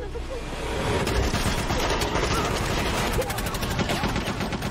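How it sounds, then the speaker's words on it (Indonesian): Gunfire erupts in an action-film shootout between a gang of robbers and police, dense bursts of shots crackling continuously at steady loudness over a low rumbling score for the whole stretch. "kelompok perampok itu malah menyerang lalu terjadi aksi tembak-tembakan"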